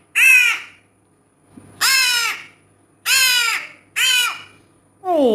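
A crow caws four times in loud, harsh, close bursts separated by short pauses, and a fifth caw begins at the end, with no talking.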